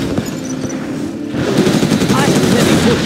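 Gatling tank from Command and Conquer Generals firing a dense, rapid stream of crackling gunfire that grows louder after a quieter start, mixed with other battle sounds and a voice.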